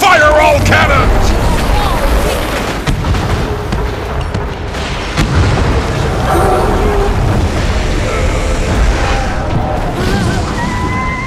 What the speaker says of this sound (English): Fire all cannons.